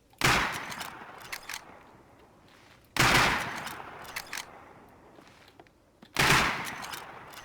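Gunfire in the survival game Rust comes as three single loud shots spaced about three seconds apart, each followed by a long echoing decay.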